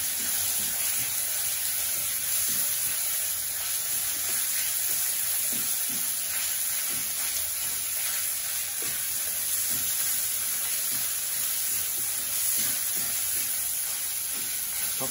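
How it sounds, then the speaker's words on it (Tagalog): Onion, garlic and tomato sautéing in a pan for a pechay and tofu dish: a loud, steady, close hiss of frying that runs throughout, with faint stirring scrapes. "Nagluluto na po yung kamatis saka sibuyas"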